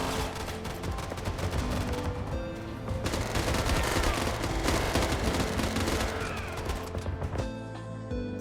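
Dense rapid gunfire from a third-person shooting video game, sustained bursts layered with game music and effects, loud and continuous for several seconds before thinning out at the end.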